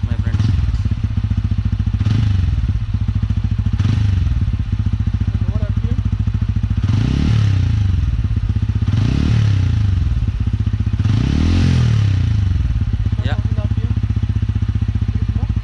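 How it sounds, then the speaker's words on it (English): The deep exhaust of a TVS Ronin 225 motorcycle rumbles steadily, swelling in several rising revs, loud and close throughout. "So this is how the exhaust sounds"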